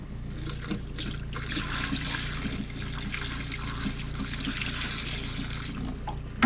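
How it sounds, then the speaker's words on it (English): Antifreeze poured down a camper sink drain, a steady trickling gurgle of liquid running into the drain, close and continuous for several seconds with a small knock at the end; no voices. "I'll take the rest of the antifreeze that I have, and I'm just going to dump about half of it down the sink here"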